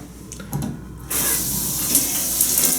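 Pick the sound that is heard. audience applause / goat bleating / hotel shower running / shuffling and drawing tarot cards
hotel shower running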